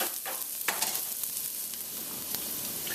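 Shallots and garlic fry in vegetable oil in a pan, giving a steady close sizzle with a few quick stirring scrapes and light clicks of the utensil.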